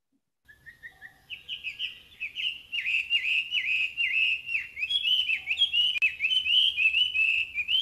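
A Chinese hwamei, a songbird from China now established in Japan, sings a loud, clear run of varied whistled phrases, starting with a few soft notes and swelling into rapid, continuous warbling, close and alone.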